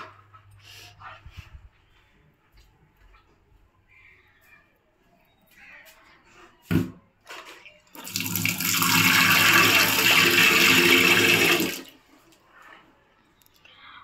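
Water is poured from a tap or container to wet a pet's house, a loud gushing burst lasting about four seconds after quieter clinks, rustles and a single thump, with a dog and faint speech around it.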